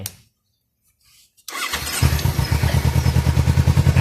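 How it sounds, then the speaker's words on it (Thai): A Kawasaki Z300 motorcycle engine starts after a brief quiet stretch, catching with a rising burst and then settling into a loud, close, rhythmic idle. "อ่ะเดี๋ยวครูให้ดูใหม่นะแล้วครูติดเครื่องใหม่"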